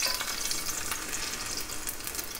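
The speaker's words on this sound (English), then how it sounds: "about 2 tablespoons of oil, not much. And then we're gonna add our garlic" Garlic frying in about two tablespoons of hot oil in a pan, a steady close hiss and crackle of sizzling that continues throughout.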